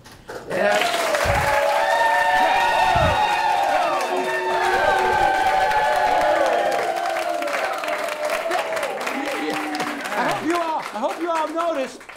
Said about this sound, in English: I hope you all noticed when those applause came in